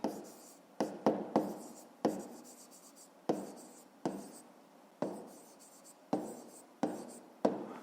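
Pen writing on paper while working a fifth-grade math exercise: a series of close, crisp scratching strokes in short bursts with brief pauses between, no voices.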